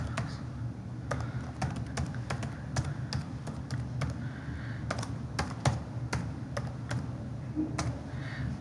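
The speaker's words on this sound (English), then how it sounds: "I just type my password." Quiet, close keystrokes on a computer keyboard as a password is entered, a steady series of separate taps at an uneven pace over faint background hum.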